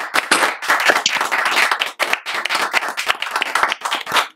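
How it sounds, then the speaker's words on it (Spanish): Applause at a graduation ceremony, sharp, close clapping from a crowd with distinct crisp hand strikes over a fuller wash, loud and continuous across the few seconds. "Un aplauso para todos."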